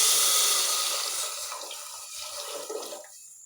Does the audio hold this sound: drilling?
no